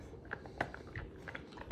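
A puppy, either an Alaskan Malamute or a Chow Chow, chews a treat up close with quiet irregular crunches and bites in a calm room, with no talking.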